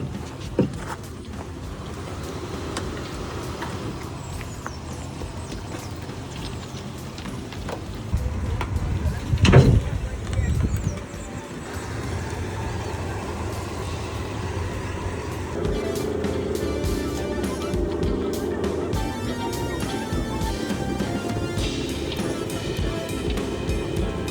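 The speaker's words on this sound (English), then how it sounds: "The ferry actually it's a barge, it has no engine, and this small thing on the side will remove it." A small pusher boat works an engineless barge ferry backwards off the bank in Costa Rica's rural south. A low, steady engine drone mixes with water wash and wind, and one louder surge comes partway through.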